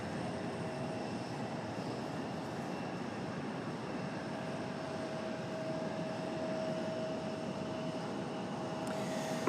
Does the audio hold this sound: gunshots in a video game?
no